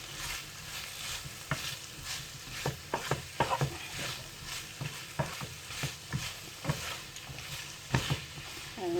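Yellow and green peppers stir-fry with chicken in a pan, a soft background sizzle broken by repeated sharp scrapes and clacks of stirring at an uneven rhythm, close up.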